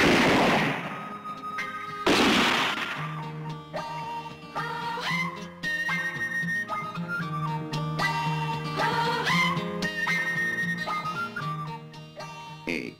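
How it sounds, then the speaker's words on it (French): Two heavy, rumbling explosion bursts in the trailer for the 1973 spaghetti western My Name Is Nobody, the first at the opening and the second about two seconds later, followed by orchestral music with sustained tones. "Pour moi, c'est une bombe."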